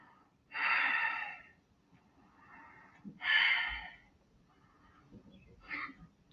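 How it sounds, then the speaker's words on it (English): Three slow, deep breaths during a yoga exercise, each a breathy inhale or exhale that rises and fades, heard close and fairly clearly against a quiet background. "take 3 deep breaths."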